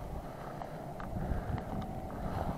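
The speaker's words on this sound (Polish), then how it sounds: "bo wieje, zimno jest" Wind blows steadily outdoors on a cold day in the Netherlands, a low rumbling buffet against the microphone that stays constant throughout, with no talking.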